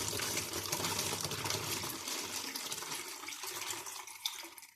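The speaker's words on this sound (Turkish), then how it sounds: "normal çeşme suyu döküyorum." Tap water pours steadily into a small bottle for homemade fruit wine, a continuous close splashing flow that tapers off near the end.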